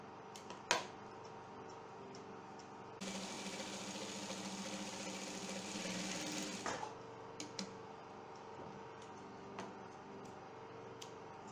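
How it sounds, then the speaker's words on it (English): A sewing machine stitching darts on a skirt, a steady whirring run of about four seconds between quiet stretches of faint clicks and handling sounds, close by. "I'm going to sew the other darts now."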